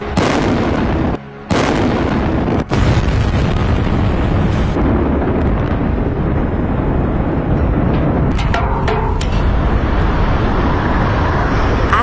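Old cooling towers in Kentucky collapse during demolition, producing a loud, sustained roaring rumble of falling concrete that continues for many seconds, with a few abrupt cuts early on.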